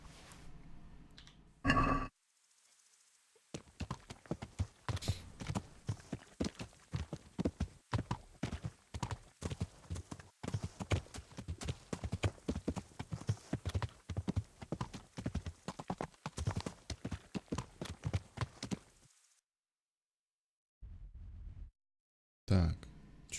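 Horse hooves clip-clop steadily in Kingdom Come: Deliverance, a long run of close, crisp, evenly paced footfalls that stops abruptly, with a brief whinny-like burst near the start and a few sharp sounds after a short silence at the end.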